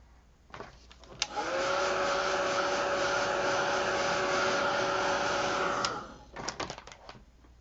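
A dryer blows on a freshly sprayed art journal page, a loud, steady whirring drone lasting about four and a half seconds, framed by clicks and paper handling before and after.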